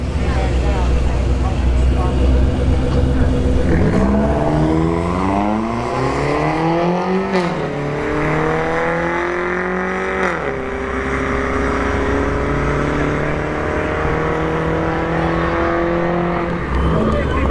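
Chevrolet Sonic drag car passing on the return road at a dragstrip during a test-and-tune session, its engine note rising and sweeping down in pitch as it goes by close and loud, with steady background rumble and talk over it.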